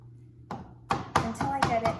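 A knife chops through ginger root in a home kitchen, with a quick run of five or six sharp, close strikes in an uneven rhythm after a short quiet start.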